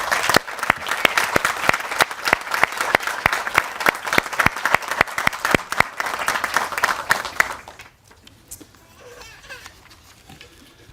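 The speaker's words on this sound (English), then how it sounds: "Let's recognize their contribution to your success by giving them a round of applause." A crowd claps loudly at a 2023 Fox Meadow High School graduation ceremony. The dense, crisp claps keep up for about eight seconds before stopping abruptly, after which only faint room noise and murmuring remain.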